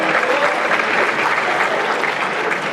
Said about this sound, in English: Clap it up, clap it up, clap